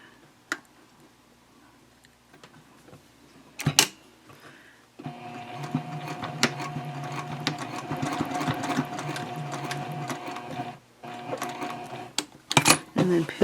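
A sewing machine stitches a seam on a messenger bag, a steady rapid chattering run for several seconds broken by short pauses, with scattered clicks and handling noises before and after.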